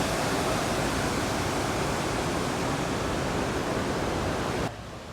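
Water rushing over a small town dam in Leland, Michigan, a loud, steady broadband roar that holds constant for about five seconds before dropping off sharply at the end.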